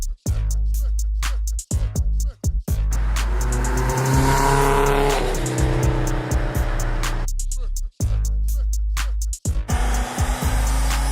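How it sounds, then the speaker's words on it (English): From inside the cabin, a compound-turbo Subaru Forester drives and accelerates hard, its engine note rising in repeated pulls. Brief sharp dips mark the gear shifts, and the sound stays loud and close throughout. "let's go for a drive in the Foz."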